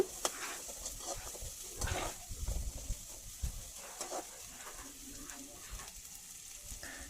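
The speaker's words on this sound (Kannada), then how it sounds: "ಇದನ್ನು ಸ್ವಲ್ಪ ಹೊತ್ತು ಫ್ರೈ ಮಾಡ್ಕೊಳ್ಳುವ. ಅದರ ಹಸಿ ಸ್ಮೆಲ್ ಹೋಗೋ ತನಕ ಫ್ರೈ ಮಾಡ್ಕೊಳ್ಳುವ." Finely chopped green chillies and ginger frying in a pan for a spinach dal, a steady soft sizzle broken by irregular scrapes and knocks of a spoon stirring, close and moderately quiet with no talking.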